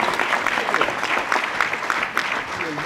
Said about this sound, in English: join in applause for the panelists